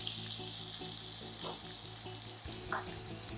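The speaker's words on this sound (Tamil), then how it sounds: "ஒரு வெங்காயத்தை நல்லா பொடியாக நறுக்கி சேர்த்துக்கிறேன்" Steady, continuous sizzling of finely chopped onion frying in oil, close and even throughout, with occasional soft stirring scrapes.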